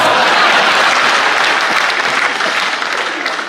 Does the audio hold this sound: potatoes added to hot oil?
no